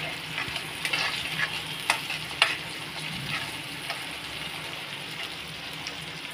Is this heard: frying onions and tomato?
yes